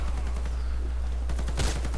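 Gunfire in the online shooter Warface, a short burst of rapid shots near the end of a two-second stretch over a steady low hum, with no talk.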